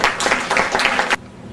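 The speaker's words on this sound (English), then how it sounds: "and we can now applaud" Audience applause at a junior council meeting of Portmore Municipal Council, a dense burst of clapping from a roomful of people lasting about a second before cutting off to quiet room tone.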